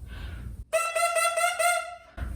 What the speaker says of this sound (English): When I just play on the reed, it sounds like this